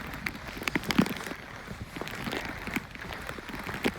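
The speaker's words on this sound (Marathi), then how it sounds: "सगळीकडे पाऊस आहे" Steady rain patters down across the whole stretch, with scattered sharper drops hitting a surface nearby; no voices.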